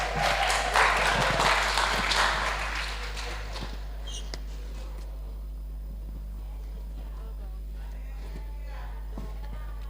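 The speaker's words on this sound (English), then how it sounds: "Give them a round of applause." Audience applause at a school coding competition's grand finale and prize-giving ceremony, loud and dense for the first few seconds, then thinning out and fading into quiet room noise.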